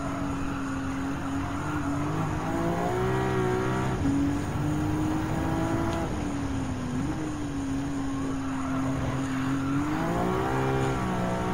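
Maserati MC20 racing in Gran Turismo 7, its mid-mounted engine note rising through the gears with clear upshift dips, a steady loud howl climbing and falling across the lap, no talking.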